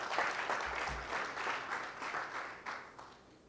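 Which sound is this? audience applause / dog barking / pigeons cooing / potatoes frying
audience applause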